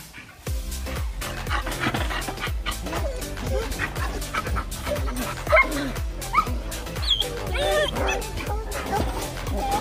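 Several dogs bark, yip and whimper in rapid, repeated bursts close by, with a voice speaking intermittently beneath the noise.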